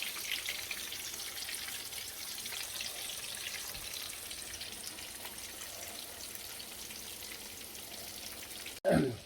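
Battered shrimp of the woods mushrooms frying steadily in hot oil, a continuous crackling sizzle at even loudness, close and alone, ending with a brief louder knock.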